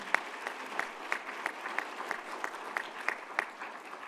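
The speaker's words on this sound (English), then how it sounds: "A round of applause, please, for the Stephenville Chamber of Commerce, their leader and all the staff that made this happen." Quiet, evenly paced clapping rises from the audience at a small business summit in Stephenville, honouring the Chamber of Commerce with a steady rhythmic beat at a moderate distance.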